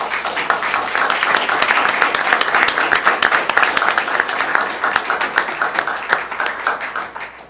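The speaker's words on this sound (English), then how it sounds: "Thank you for the applause." Vigorous, close applause fills a city council meeting chamber, with sharp individual claps standing out from the steady roar before it thins and fades near the end.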